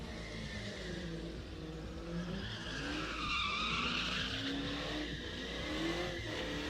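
A Dodge Charger doing a burnout at a drift and stunt show, with a loud, continuous tire screech and roaring engine that swell toward the middle and hold steady throughout.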